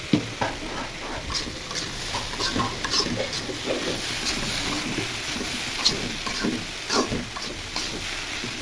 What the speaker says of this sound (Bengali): এখন ঢাকনা খুলে ভাজি নেড়ে চেড়ে দিব।